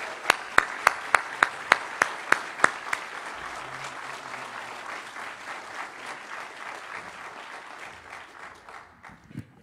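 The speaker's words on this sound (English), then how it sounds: "So let's give Sean one more big round of applause." Audience applause for an honoree at a Black History Month celebration, starting with a few loud, distinct claps and swelling into sustained, steady clapping from the crowd that gradually fades.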